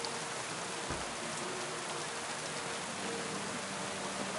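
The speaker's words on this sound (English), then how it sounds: "Ah, rain. Just what we needed." Steady, dense rain in the medieval game Kingdom Come: Deliverance II, an even wash of falling drops on surfaces, continuous and fairly loud throughout with no talk.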